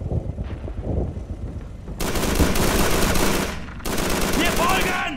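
Automatic gunfire from the World War II shooter Call of Duty 3 comes in two long, loud, rapid bursts after a quieter stretch of battlefield noise. Faint voices sit underneath.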